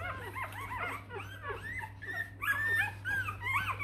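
Three-day-old Rottweiler puppies whimper and cry in a chorus of rising, wavering whines and yips, close and fairly loud over a steady low hum, with no talking.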